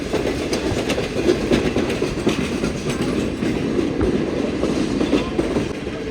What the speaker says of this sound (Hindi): तो भाई फाइनली लाहौर से तो निकल गई है ट्रेन